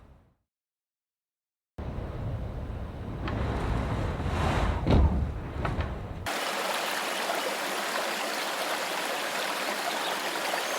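A bubbling forest brook flows steadily after a short silence, a bright continuous water rush that sharpens and grows brighter midway, with a few brief fluttering bursts before it settles into an even stream.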